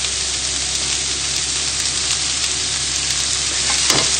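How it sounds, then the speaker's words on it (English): Onions and mushrooms fry in a pan for a tuna fish pie, giving a loud, steady close-up sizzle with a brief scrape of stirring near the end and no talking. "just cook out the raw flavour of the onion and just start cooking the mushrooms"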